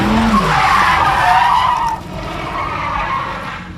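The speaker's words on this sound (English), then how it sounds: "Right up until the part where you had to make the tires spin." A Dodge Hellcat's tires spin and skid with a loud, sustained squeal over engine roar, easing into a quieter scrubbing screech toward the end.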